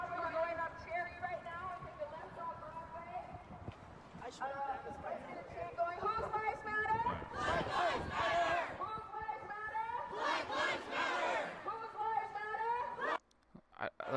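A street protest crowd near City Hall, with many voices chanting and shouting together in loud rhythmic bursts over steady chatter, fading toward the end.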